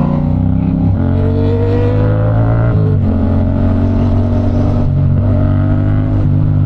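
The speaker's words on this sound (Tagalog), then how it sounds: "Namiss ko yung ganitong makina." A Honda CB650R motorcycle engine idles and revs up and down in a loud, throaty, sustained drone, close to the microphone.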